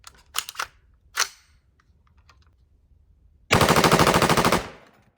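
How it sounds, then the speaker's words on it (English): A 300 Blackout rifle test fires: a few sharp clicks and clacks of handling first, then a loud, rapid burst of about a dozen shots lasting roughly a second. "I think we're going to test fire this and see if it works."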